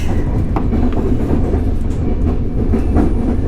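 A PKP Intercity train on the IC Śnieżka service, heard from inside a second-class carriage: a loud continuous rumble with rhythmic clickety-clack of wheels over rail joints throughout.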